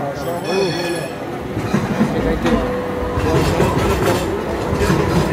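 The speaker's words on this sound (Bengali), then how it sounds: "ওই যে আর একটা ট্রাম পাইতেছে, কত সুন্দর।" A tram passes on a city street in Turkey, a steady rolling rumble with faint metallic clatter and wheel hiss, fairly loud and continuous, over busy street noise and people talking.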